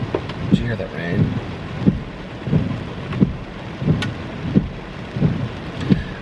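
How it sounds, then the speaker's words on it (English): A stormy New Year's Eve downpour gives a continuous close rain wash, punctuated by regular muffled thuds every half second or so, with no distinct thunder. "Did you hear that rain?"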